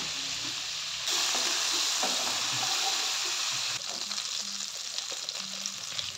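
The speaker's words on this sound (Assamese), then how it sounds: "কেৰাহীখনত আমি তেল গৰম হোৱাৰ পাছত পনীৰ কিডোখৰি ভাজি লৈছো অকণমান" Paneer pieces fry in hot oil in a kadai, a steady close sizzle and crackle that jumps louder partway through, then settles into softer, uneven spitting with faint stirring clinks.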